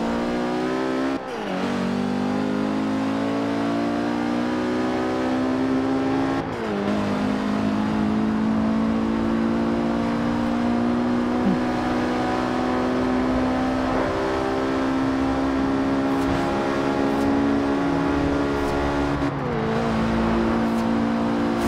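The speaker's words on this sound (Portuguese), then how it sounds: "A turbina enchendo." An Alfa Romeo Giulietta in Forza Horizon 5 accelerating hard, its turbo whining as it spools up, with a rising engine note that climbs through gears, briefly dropping at two shifts, loud and continuous with no voices.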